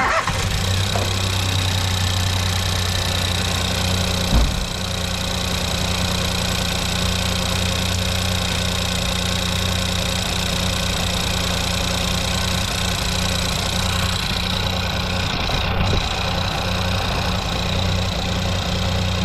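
A Ford Focus EcoBoost engine, freshly rebuilt with a new cylinder head, turbo, timing set and gaskets, fires up and settles into a loud, steady idle with a faint knocking undertone.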